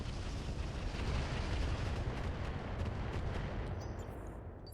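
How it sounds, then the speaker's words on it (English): Cover fire from battling mechs in the RogueTech mod of BattleTech: a dense, continuous roar of artillery and weapon blasts, loud and sustained, fading slightly toward the end with no voices. "the goal now is to lay down some cover fire"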